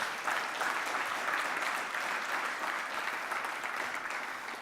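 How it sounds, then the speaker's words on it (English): A crowd claps steadily in a dense, even round of applause that holds throughout before easing slightly at the end. "So I think they deserve a round of applause."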